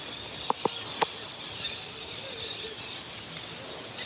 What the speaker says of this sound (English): I hear all the birds.